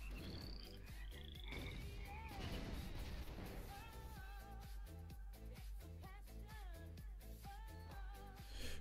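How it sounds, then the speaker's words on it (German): A frog croaking in a loud, busy mix of game sound effects and music, the croaks rising above the clutter now and then. "Guck mal, Mama Frosch."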